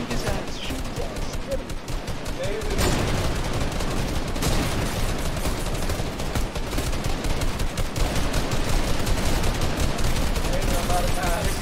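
Continuous rapid gunfire in a video game shootout, dense and loud throughout, with bursts of automatic fire that grow heavier toward the end, under excited shouting voices.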